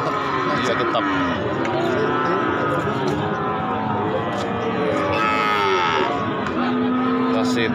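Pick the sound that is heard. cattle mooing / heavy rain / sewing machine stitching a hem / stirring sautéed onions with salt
cattle mooing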